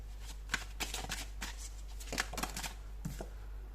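Tarot cards are shuffled and drawn by hand, making a run of quick, close riffling and flicking bursts with short pauses between them over a low steady hum.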